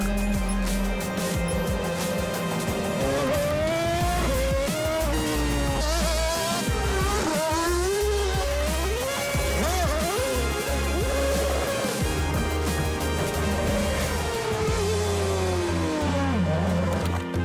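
Red Bull RB18 Formula 1 race car at its launch event, engine revving and roaring loudly and continuously with rising and falling pitch sweeps, heavy and close throughout.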